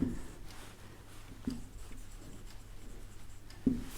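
A chemical equation being written during a chemistry lecture, with soft, quiet scratches of pen or chalk at a few separate moments over a faint steady background hum.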